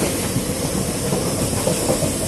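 Jan Shatabdi Express passenger train pulling slowly out of Diphu station, heard from a window seat inside the coach: a steady, loud rumble with soft clattering and hiss, and no voices.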